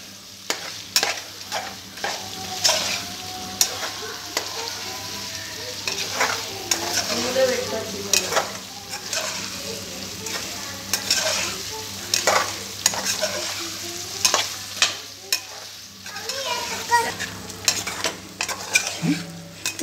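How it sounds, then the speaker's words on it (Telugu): Chicken pieces with green chili fry in a pan while being stirred steadily, giving a continuous sizzle broken by frequent scraping clatters of a utensil against the pan, close and fairly loud, with no talking. "బాగా తిప్పాలి. ఇలా గంటతో తిప్పుతూనే ఉండాలి"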